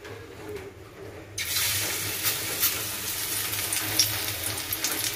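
Raw papaya pakoras are slipped into hot oil in a home kitchen. After a quiet moment, a sudden loud sizzle bursts in and keeps crackling and popping up close.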